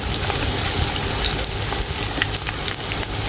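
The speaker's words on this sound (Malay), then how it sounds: "Kalau tumis macam ini memang sedap ni" Ingredients sauté in hot oil for a shrimp sambal, producing a loud, steady, crackling sizzle up close throughout, with no voices.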